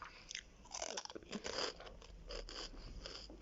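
Crunchy biscuits are bitten and chewed close to the microphone, with several crisp crunches and chewing sounds in an uneven rhythm at a quiet level.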